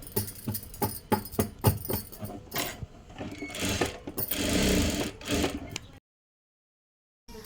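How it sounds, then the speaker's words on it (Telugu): A sewing machine stitching the lining of a boat-neck blouse runs in quick rhythmic bursts with brief stops, then goes silent near the end. "సో ఈ విధంగా అయితే కుట్టు అయితే వేసేసుకోవాలి"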